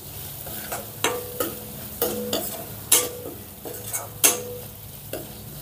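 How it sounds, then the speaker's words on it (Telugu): Fried onions with chili powder, turmeric and salt are stirred in a pan, a spoon scraping and clanking in a steady rhythm of about a dozen strokes over a soft sizzle, with no talk. "ఇప్పుడు ఈ మొత్తాన్ని ఒకసారి కలిపేసుకుందాం"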